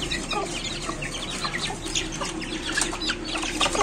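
Chickens cluck continuously inside a pet cage, a busy, steady chorus of overlapping clucks and rooster calls at close range with faint wing flutters, and no talking.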